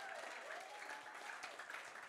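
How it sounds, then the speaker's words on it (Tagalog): A church congregation at a worship service in Dubai claps together in a dense, continuous wash of applause that sounds fairly distant and soft throughout. "pumalakpak nga ng malakas"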